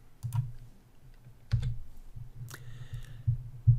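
Computer keyboard keys tapped in short irregular bursts while entering code into a Python shell, close-up clicks with soft thumps and pauses between groups.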